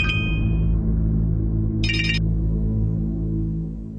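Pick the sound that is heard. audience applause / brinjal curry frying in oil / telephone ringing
telephone ringing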